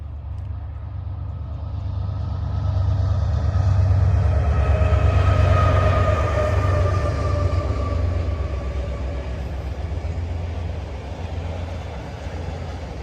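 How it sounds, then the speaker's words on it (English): A train passing nearby, a loud, sustained rumble with rolling wheel noise and a faint higher tonal whine that swells toward the middle and stays heavy to the end, with no talk over it. "That was the train we were waiting for."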